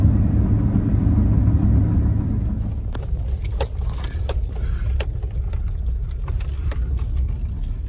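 A car driving off-road on the way up Peterson Mountain, Nevada, with a loud low engine rumble and road noise, then rattling and jangling clatter over rough ground with sharp bumps and knocks.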